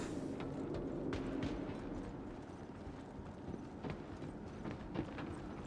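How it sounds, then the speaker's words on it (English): Footsteps of a player character in the video game Star Citizen, shown as a run of soft, irregular thuds and scuffs at moderate loudness, heard alone with no talk. "I can hear footsteps."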